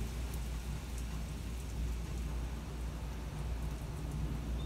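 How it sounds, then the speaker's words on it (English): Steady heavy rain hissing throughout a severe thunderstorm with hail in south-east Michigan, with a low, rolling rumble of thunder beneath the downpour; no one speaks. "That's thunder."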